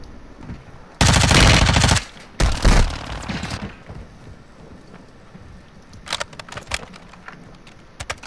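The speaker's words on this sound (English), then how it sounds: "Taking effective fire!" Loud bursts of automatic fire in a shooter video game, one long close burst followed by a shorter one, then scattered fainter shots trailing off against a windy background.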